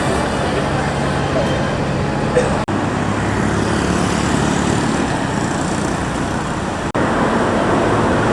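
Steady street traffic roar in Kuala Lumpur near a free city bus, a dense close rumble of engines and road noise that continues without a break, with voices mixed in underneath.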